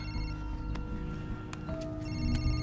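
A mobile phone rings nearby with a bright, repeating electronic tone pattern over a faint background hum, and no one speaks.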